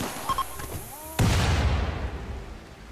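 Video game gunfire bursts out as a sudden loud boom after a few small pops, its rumble slowly fading, with talking just before.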